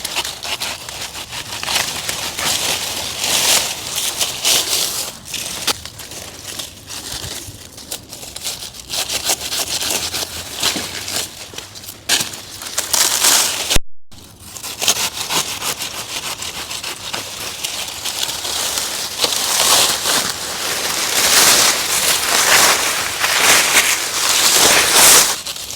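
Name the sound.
saw cutting through a hardy banana stem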